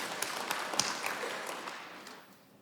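Applause from a church congregation during a worship service, a soft, diffuse patter of clapping that fades away over a couple of seconds, heard faintly at a distance with no talking.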